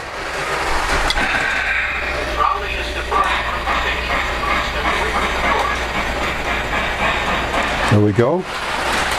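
A Polar Express toy freight train pulling a bell flatcar runs along a layout with a continuous whirring rumble and faint clatter, and a voice speaks briefly near the end.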